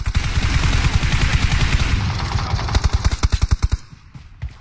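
Fast, loud automatic fire rattles in the battle-royale game PUBG Mobile, a steady stream followed by sharper, well-spaced shots that fade to quiet near the end.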